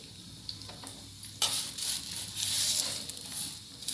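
Chana dal, urad dal and toor dal tossed into about two spoons of hot oil for gongura pachadi set up a close, steady sizzle with soft crackles and stirring scrapes, rising after a sudden start.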